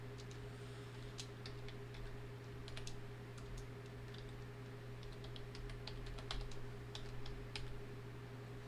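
Quiet, irregular keystrokes on a computer keyboard clatter in short runs and single taps over a steady low electrical hum.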